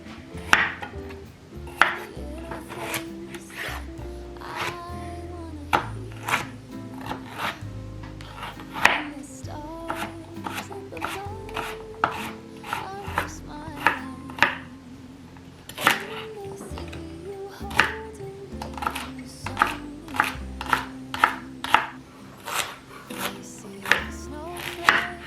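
A knife chops onion for a vegan stuffed roast with sage, a quick run of crisp cuts on a board, close and steady, over a tonal background throughout.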